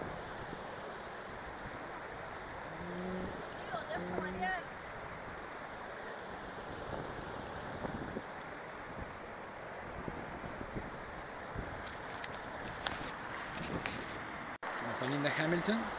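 Steady broadband rush of a river in El Bolsón in the Andes, constant and fairly close, with people talking over it and a louder gust of wind-like noise at the end.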